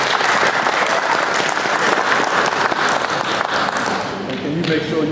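Steady, loud applause from an audience at a Rotary Club essay awards event, dense clapping filling the whole stretch with a crowd murmur underneath and voices faintly mixed in.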